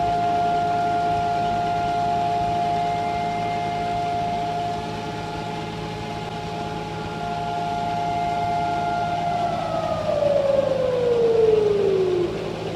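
A steady siren tone holds for several seconds, then winds down in a long falling glide as it finishes, over a low rumbling background.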